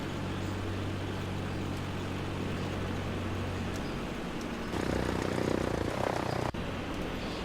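A propeller airplane engine in Flight Simulator X drones at full power through a fast turn, a steady loud hum with a low tonal buzz that shifts partway through.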